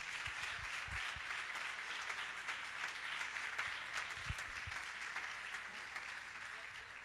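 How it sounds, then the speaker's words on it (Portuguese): A church congregation applauds during a worship service, with dense, steady clapping that sounds distant and faint and continues throughout. "Aplauda Jesus."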